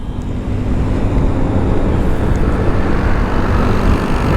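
A DAO 703 electric car accelerates with a loud, steady broadband road and motor rumble that holds evenly throughout with no voices.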